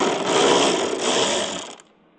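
Rapid ratcheting of a wrench loosening 7 mm bolts on the rear ducktail spoiler of a 2024 Ford Mustang, a loud, close, continuous mechanical clicking that runs for under two seconds and then stops abruptly.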